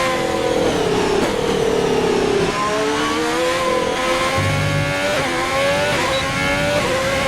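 A video game race car runs a flying lap of the Vietnam track, its engine screaming continuously at high revs and its pitch climbing and dropping through quick gear changes.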